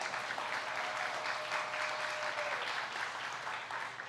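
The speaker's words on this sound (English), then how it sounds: "And a round of applause, please." Audience applause at a storytelling panel, a fairly quiet, continuous patter of clapping from a gathered group that stays even and distant throughout.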